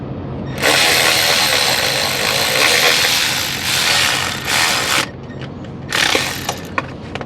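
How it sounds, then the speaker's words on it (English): Ratchet wrench cranking down two 10mm bolts on a diesel engine's injector cover during a roadside repair: sustained close clicking and whirring of the pawl, a brief pause, then a shorter final burst. "Now, I'm gonna tighten up the two 10mm bolts."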